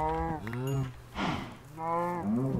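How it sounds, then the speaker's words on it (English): Cows mooing in the Minecraft video game, two long drawn-out lowing calls a moment apart, clear and close, with a brief rustle between them. "Some more cows."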